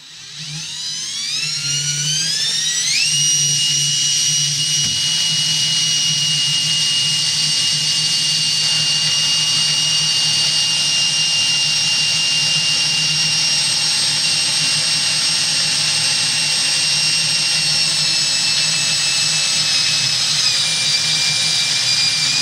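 A drill boring a pilot hole into metal for a smoker build, a loud continuous whine whose pitch climbs as it spins up, then holds steady and close, with no voices.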